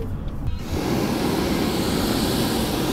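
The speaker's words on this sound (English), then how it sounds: "Clouds. An airplane." Airplane passing in the sky, a broad roaring engine wash that swells after a brief quieter moment and holds steady and loud, with no speech over it.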